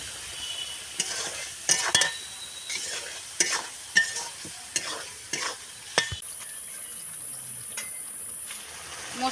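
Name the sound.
frying and stirring spice masala for soybean curry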